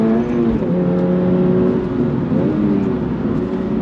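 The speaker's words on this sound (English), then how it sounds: "On throttle, here we go. Pulls nicely to that red line." 2025 Subaru BRZ tS on a race track, its engine pulling hard under full throttle toward the red line, a loud, steady rising drone heard from inside the car with no talking.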